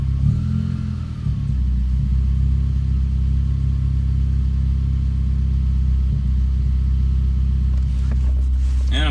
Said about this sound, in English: when I press on the gas pedal, that's a little sluggish